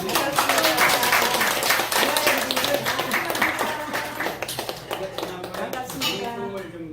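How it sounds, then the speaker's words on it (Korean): A room of people at a Korean gathering claps to welcome newcomers who stand up. Dense, steady clapping fills the clip at close range. Clinking noises and voices come through on top of it, and the clapping thins out near the end. "박수 한번."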